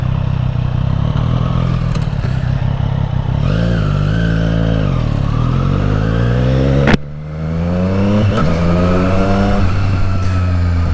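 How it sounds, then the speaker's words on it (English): A Triumph Street Triple R motorcycle engine revs up steadily, its pitch climbing through the gears with a brief dip at a quick-shifter shift, loud and close, with no talking. "So nice riding modern motorcycles."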